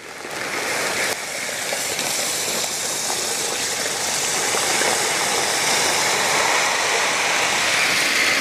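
Water pours steadily to make a flavoured drink syrup with sugar, a loud, continuous rushing splash close by with no talking.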